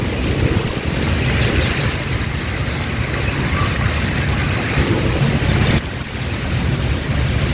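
Heavy rain pours steadily and loudly with a dense, continuous hiss, while low thunder rumbles underneath throughout. No voices are heard.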